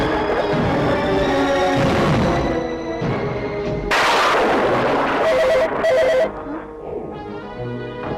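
A telephone rings insistently in a Hindi action thriller scene, loud repeated electronic ringing tones layered over a busy, dense film soundtrack, with the ringing bursts standing out near the end.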